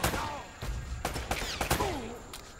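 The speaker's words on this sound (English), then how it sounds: "You always seem to be getting shot at." Bursts of gunfire from a firefight in Uncharted: Drake's Fortune, several sharp shots spread across a few seconds while a voice speaks between and over them.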